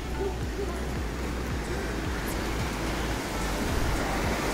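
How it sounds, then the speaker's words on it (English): A river rushes down from the mountains in Luxembourg after heavy rain, a loud continuous broadband roar of water that stays steady throughout, with no talk. "you may be able to hear the river in the background"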